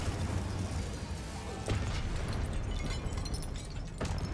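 Incendio fire spell cast in Hogwarts Legacy amid dense combat, a bright burst of whooshing, crackling blast effects over a continuous loud wash of battle sound, with sharp hits near the middle and end.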